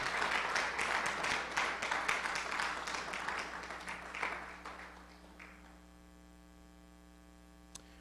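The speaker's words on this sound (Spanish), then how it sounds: "Dele las fuertes palmas al Rey." A church congregation applauds during a sermon, loud dense clapping for about four seconds that fades out, leaving a steady electrical hum and a single faint tap near the end.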